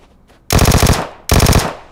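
A Vector submachine gun fires at close range in PUBG Mobile on the Miramar map, two loud rapid-fire bursts of crisp, tightly spaced shots with a short gap between them.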